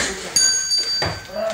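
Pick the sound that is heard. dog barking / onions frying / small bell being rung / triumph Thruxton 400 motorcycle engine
small bell being rung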